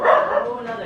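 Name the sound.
dogs barking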